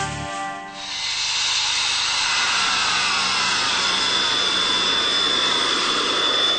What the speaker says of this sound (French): Un avion de chasse qui traverse une route nationale.